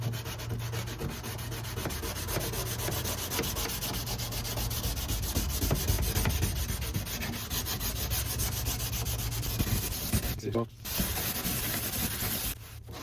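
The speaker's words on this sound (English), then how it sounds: "I've got 240. Just so to finer sandpaper. So I want to scratch it and just sand it a little bit." Sandpaper of 240 grit rubs across an antique oak desk in a continuous close scratchy hiss of rapid strokes, steady and fairly loud, broken by a brief pause near the end.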